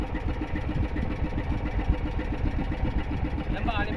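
A fishing boat's engine runs steadily at sea in stormy weather, a close, dense low rumble with fast regular pulsing. People talk over it throughout.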